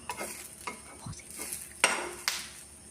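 An egg fries in butter in a pan, with quiet sizzling under repeated scraping stir strokes and two sharp utensil clinks against the pan.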